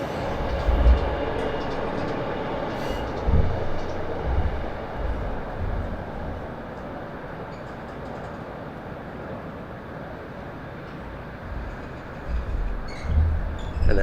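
An easyJet airliner approaches the runway at Southend Airport, a broad, distant jet roar that swells and fades across the open airfield with low rumbling gusts and no speech.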